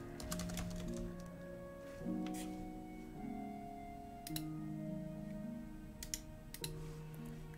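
Keys are tapped on a computer keyboard in quick, light, irregular clicks. A steady melodic music track plays louder underneath them.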